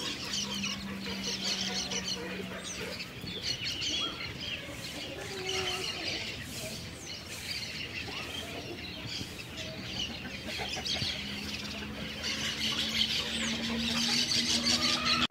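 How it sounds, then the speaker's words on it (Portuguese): Chickens cluck among open pastures on a farm, their calls scattered and fairly distant over steady outdoor ambience and birdsong, continuing without talk throughout. "Ali tá cheio de galinha, ó, no meio daqueles pastos ali"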